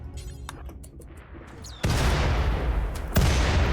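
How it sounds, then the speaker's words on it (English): Mortar shells fired in RimWorld, with a few small pops early on, then a sudden loud blast that opens into a sustained roaring wash and a second sharp boom near the end. "Alright, they're starting to fire up the mortar shells."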